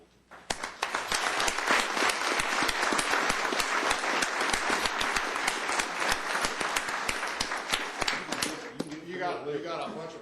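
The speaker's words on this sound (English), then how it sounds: "if anybody deserves a round of applause, it's these folks" Audience applause at a county commissioners court meeting, dense steady clapping from a room of people that swells quickly, holds for about eight seconds, then thins out as a few voices return.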